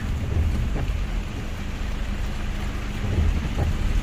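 Steady, heavy rain hissing without a break, with a faint low rumble underneath.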